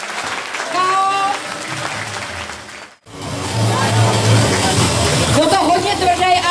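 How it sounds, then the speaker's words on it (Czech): A fight-night crowd applauds and cheers two fighters after a fast knockout, loud sustained clapping and crowd noise under an announcer's voice, briefly cut off midway before resuming. "Potlesk pro oba borce."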